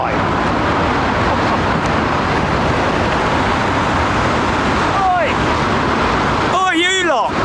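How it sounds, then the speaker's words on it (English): Cars rush past on a road in a constant loud wash of traffic noise, with brief voices breaking in near the end. "Because there's cars going by."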